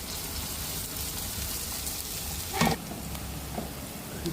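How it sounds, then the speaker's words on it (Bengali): Dried chillies, panch phoron, onion and green chillies tempering in hot oil for a ridge gourd sabzi: a constant close hiss of frying with one brief clatter of stirring partway through. "ফোড়নে দিয়ে দিলাম লঙ্কা, পাঁচফোড়ন, পেঁয়াজ, কাঁচা লঙ্কা"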